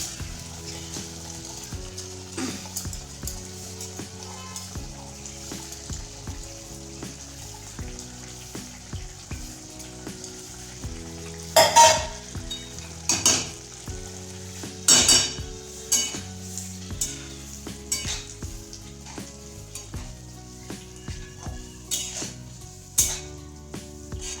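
Washed masoor dal fries in a pan on a home stove, a soft steady sizzle under repeated scraping and metallic clinks of a spoon stirring, with a few louder clanks partway through and no talking.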